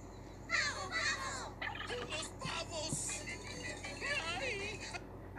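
Turkeys gobble repeatedly in warbling bursts outdoors, fairly faint and at a distance, while people talk over them.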